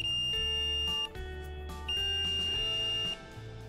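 A circuit continuity tester gives a steady electronic buzz in two sustained stretches while probing a Nintendo 3DS circuit board, cutting off abruptly between them, with faint clicks in the gaps.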